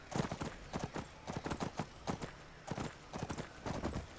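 Horse hooves clip-clop in a steady trotting rhythm in the Skyrim video game, close and clear with a faint whinny-like tone, no talking over them.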